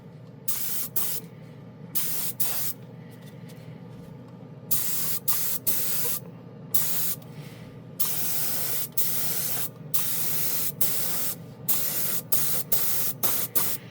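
A cheap Harbor Freight spray gun spraying 2K paint hisses in repeated short bursts, each lasting about a second, with brief pauses between them and a low mechanical hum underneath.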